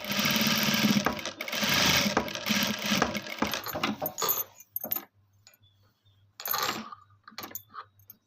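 A sewing machine stitches in a long, close, steady rattling run, then stops and starts in a few short bursts separated by near-silence.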